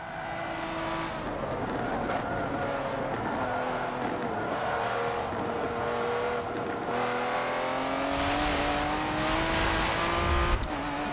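A Lamborghini race car in Forza 7 roars steadily through the whole stretch, its engine pitch climbing and dropping with gear changes, tires scrubbing underneath, loud and close with no talk.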